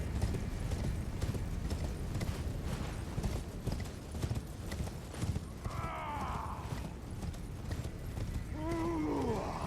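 Horse hooves clip-clop steadily in the Elden Ring video game, a continuous near rhythm over dense game ambience, with a brief neigh or creaking sound toward the end.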